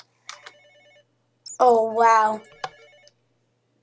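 A telephone rings in a horror-style video game, a short electronic ring burst, with someone talking and exclaiming before and after it.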